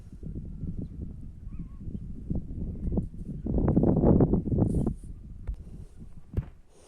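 Geese honk repeatedly nearby in an uneven, overlapping chorus that swells loud in the middle before tapering to scattered calls.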